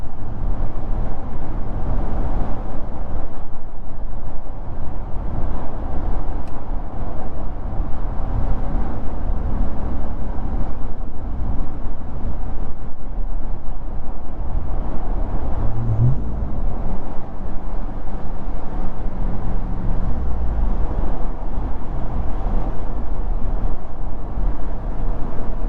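Supercharged 2023 RAM TRX engine during a night drive, a steady loud low drone and rumble with road noise filling the cabin throughout, no voices.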